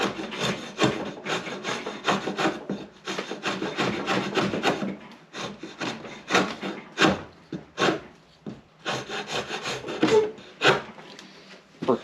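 A draw knife shaves wood for a roughly six-foot wooden sword in repeated short, rasping strokes, close and uneven in rhythm, each pull a brief scrape separated by short pauses.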